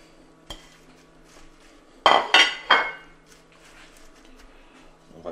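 Spaghetti with sardines and rocket being tossed in a pan off the heat: a quiet stretch broken by three quick, loud metallic clanks of utensil against pan, then soft handling noises.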